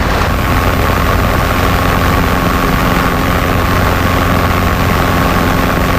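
A Robinson R22 helicopter in flight, heard from inside as a loud, constant rotor and engine drone with steady low thrumming and a broad roar, unbroken throughout.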